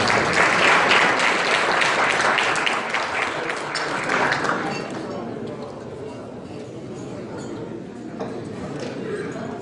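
Applause at a year-end golf party welcoming a company's CEO, full for the first few seconds, then thinning to scattered claps under low voices and room noise.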